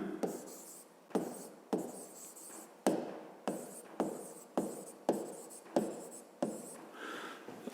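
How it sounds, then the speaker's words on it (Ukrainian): Pen strokes scratch across paper while a math solution for a fifth-grade exercise is written out, arriving as a steady series of short, close scribbling bursts separated by brief pauses, with no talking. "Отже, записуємо тоді розв'язання."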